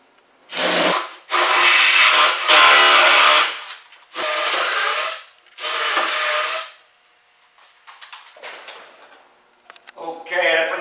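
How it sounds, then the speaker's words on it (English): Power drill with a 3/4 inch bit boring into wood, several loud bursts of whirring and chewing a second or two each, separated by short pauses and followed by quieter handling noises. "Try to drill these as straight as possible."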